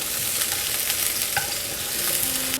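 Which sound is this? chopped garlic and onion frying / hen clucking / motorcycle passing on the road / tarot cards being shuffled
chopped garlic and onion frying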